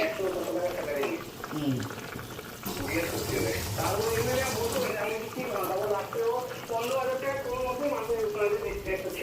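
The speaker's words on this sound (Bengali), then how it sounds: "চালটা ধুইয়া নিতেছি ভালো করে" Rice being washed in water, with sloshing and trickling water under a person's ongoing talk.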